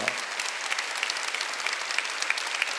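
A church congregation claps during a Sunday worship service, a dense, even patter of many hands with sharper accents at a steady pulse, heard alone without talk.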